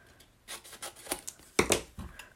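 Scissors snip through paper to cut off a corner, giving a few short, close, crisp cuts and rustles in an otherwise quiet room.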